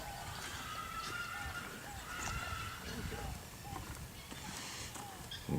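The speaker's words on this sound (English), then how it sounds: "Sounds like those guineas are mad." Guinea fowl squawk in agitated, repeated calls at a farm where a horse is being trained, a steady outdoor bed of noise and distant hoof sounds running beneath them.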